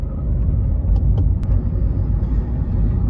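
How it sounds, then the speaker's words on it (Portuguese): A car with an automated single-clutch manual gearbox holds a steady low engine-braking rumble, loud and continuous throughout, with a couple of faint brief clicks over it and no one talking. "ele tem sim um freio motor aqui que a gente fez o acionamento manual"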